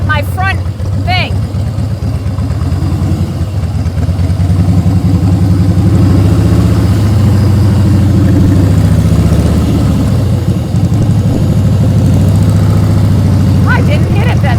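A motorcycle engine runs through riding practice drills, a steady close drone that swells and eases with throttle, with brief voices near the start and end.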